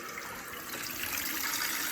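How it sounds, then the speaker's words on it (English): Water running steadily from a boiler purge-and-fill ball valve drain while purging air from a zone-valve heating system, a continuous hissing rush that grows slightly louder and fuller partway through, with no talk. "Turning on the water,"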